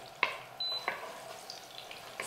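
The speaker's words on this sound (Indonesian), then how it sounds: "Dan ini di sini aku sudah panaskan minyak. Aku mau goreng bawang merahnya dulu." Shallots go into hot oil to fry for Banyuwangi-style nasi pecel, giving a soft, quiet sizzle with a few sharp clinks and taps over it in a short, close stretch.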